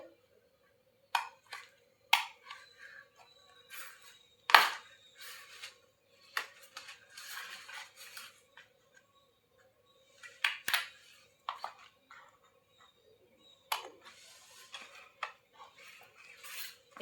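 Scissors snipping fabric while cutting out a katori blouse: light, crisp metallic snips come in scattered ones and pairs, quiet and close, with short pauses and a faint steady hum in between.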